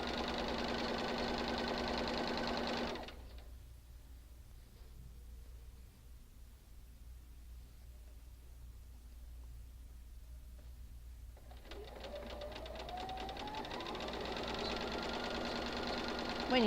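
Sewing machine chain piecing quilt block fabric, its fast steady stitching whir loud at first, then stopping for several seconds of near silence before starting up again and running on to the end.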